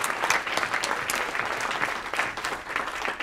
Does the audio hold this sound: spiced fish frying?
no